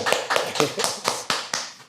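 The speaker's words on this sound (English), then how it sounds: "Let's clap it up for this gentleman right here one time" An audience claps for a guest speaker: a short burst of sharp, close claps in a quick, fairly even rhythm, about eight strikes, with talking mixed in.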